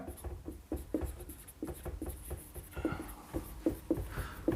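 Notes are handwritten with a pen in quick, irregular scratching strokes, close up and fairly soft, with no talking.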